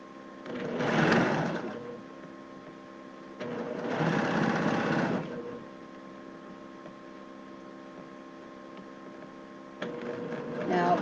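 A sewing machine stitches the burrito shoulder seam of a flannel shirt in two bursts of a second or two each, with a third starting at the end, separated by a quiet hum.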